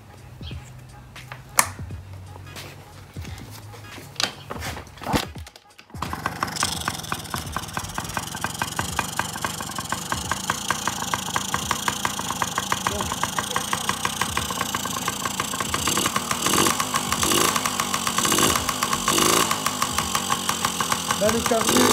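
A Yamaha PW50 small two-stroke motorbike with a freshly adjusted carburetor is kicked over and fires up after a few seconds, then settles into a loud, rapid buzzing idle nearby, occasionally blipped, with someone talking early on.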